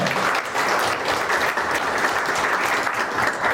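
A crowd at a Seoul district forum on the Changdong-Sanggye economic zone applauds to welcome the Nowon district mayor, a dense, continuous burst of clapping at steady volume throughout.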